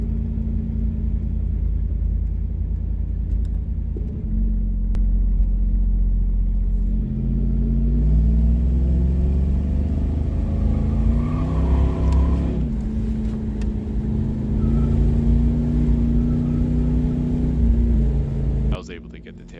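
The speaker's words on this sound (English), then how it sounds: "hear the sound of that American V8 rumbling down the straightaway" A 1992 Chevrolet Camaro Z28 with an American V8 rumbles loudly and steadily down a race track straightaway during a track day, its deep engine note rising and shifting through gears for nearly twenty seconds.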